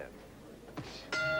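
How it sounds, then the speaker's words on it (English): A boxing ring bell rings to end round 1 of a scheduled 10-round junior welterweight bout at Resorts International. A short strike comes first, then a loud ringing tone with sustained harmonics that continues to the end. "Bell!"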